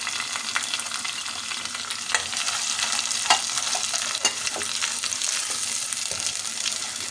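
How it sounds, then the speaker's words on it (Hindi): Onions with green chillies frying in a pan give a steady close sizzle, with a spoon stirring and scraping in intermittent clicks throughout. "प्याज को बस थोड़ा सा चलाएंगे"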